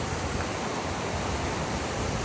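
Loud, steady roar of water gushing and churning out of a Narmada canal outlet, a dense rushing wash that fills the whole clip without a break.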